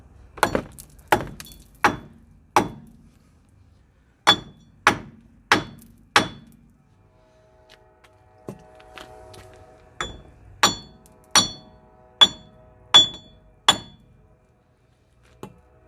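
Sharp hammer taps ring out in quick sets of four or five, loud and close, separated by short pauses with a faint metallic hum between.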